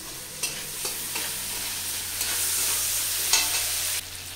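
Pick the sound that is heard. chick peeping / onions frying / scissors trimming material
onions frying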